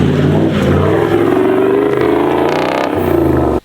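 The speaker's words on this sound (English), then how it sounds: "they fitted the new exhaust, which is the Redback 3-inch with the resonator, and it sounds really good" A 1976 Toyota Land Cruiser engine revs hard through a new Redback 3-inch exhaust with resonator, a deep, raspy note, loud and close, rising and holding before cutting off abruptly.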